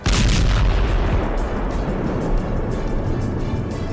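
A deep, rumbling explosion from a drone strike booms at the start and then rolls off into a sustained low roar that persists in the distance.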